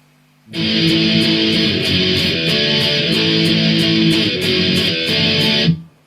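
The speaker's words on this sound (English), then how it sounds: "it's just basic power chord shapes, just 3 power chord shapes." A loud, distorted electric guitar plays a chugging riff of three basic power chord shapes, steady and driving for several seconds before stopping abruptly.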